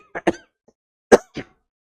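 Two pairs of short, sharp coughs close to the mic, separated by a brief silence, with no talking.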